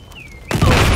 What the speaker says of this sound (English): Oh God! Laser trip mine.